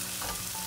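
Turmeric powder sizzles and fries in a hot pan while being stirred for a mussel roast, a steady close hiss with no talking.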